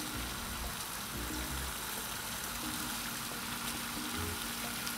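Bacon strips laid side by side on a hot Blackstone 22-inch griddle set to low, giving a steady, even hiss and crackle of frying fat that runs unbroken throughout, with no voices.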